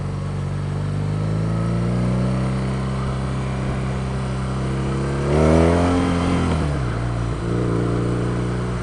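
A 2016 BMW R nineT motorcycle engine drones steadily while riding at low RPM, then swells louder as it revs up through a gear before easing back to a smooth, even hum.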